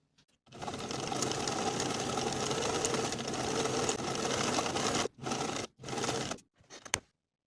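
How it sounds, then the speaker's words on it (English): A sewing machine stitches a placket seam on a bow tie top at a 3/8 inch seam allowance, running in one steady, close, continuous hum for several seconds before a few short stop-start bursts end the run. "Sew from top to bottom with a 3/8 inch seam allowance"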